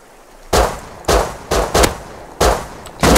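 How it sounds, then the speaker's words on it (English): Gunfire in an online shooter video game, six sharp, loud shots spaced roughly half a second apart, each with a short decaying tail, no talk over them. "I'm shooting him."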